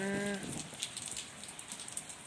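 Rain falls in a steady, close hiss of patter with scattered sharper drops, after a short tonal voice-like sound at the very start.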